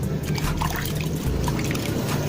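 Water trickling and splashing as it is poured to rinse off brake fluid while fitting a motorcycle disc brake hose, a short continuous wet gurgle close by.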